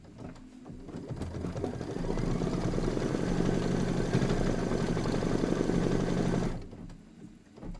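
A sewing machine runs a steady satin stitch in cashmere thread for several seconds, a loud, fast, even mechanical whir that starts up, holds constant and then stops, with a quieter hum before and after.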